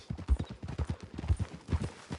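Video-game horse hooves at Valentine clip-clop in a quick, even rhythm of soft thuds, quiet and close, with no other sound.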